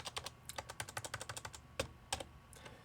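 Rapid typing on a computer keyboard, a quick run of crisp, close keystrokes followed by a few separated, heavier presses, with no talking.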